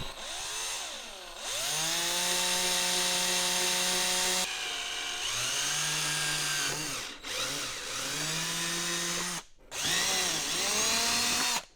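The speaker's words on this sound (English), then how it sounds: "we're going to take a 3/8 inch drill bit and just simply drill right through these 4 holes here" Power drill with a 3/8 inch bit boring four holes through a Honda CR/CRF motorcycle fender, several close whining bursts that rise and hold, separated by brief pauses.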